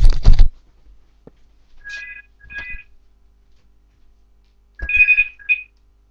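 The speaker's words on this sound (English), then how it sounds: "I gotta get the phone." A telephone rings in short electronic bursts, three or four separated trills with gaps between them, over near silence, during a Resistance: Fall of Man game session.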